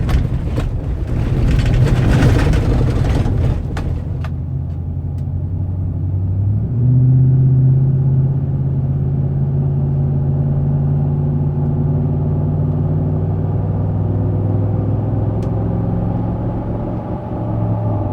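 A 2007-2012 Chevrolet Silverado with a 6L80E automatic transmission pulls away on blacktop after a fluid change, its engine rumbling loud and close, then dropping in pitch as it shifts smoothly from first to second and settles into a steady drone.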